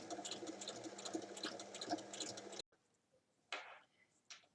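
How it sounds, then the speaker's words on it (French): A sewing machine topstitches fabric for a spring handbag, running in a steady, close, busy whir for over two seconds before stopping abruptly, followed by a quiet pause and a couple of brief handling noises. "Je viens ensuite faire une surpiqûre."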